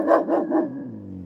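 A dog gives three quick, close barks in a row, followed by a short fading tail.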